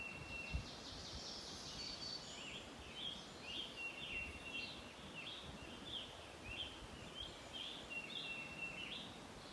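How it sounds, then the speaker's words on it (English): Several birds chirp and sing in repeated high phrases in a mountain forest over a soft, steady outdoor hush, fairly faint and distant. "Listen to the birds for a few seconds"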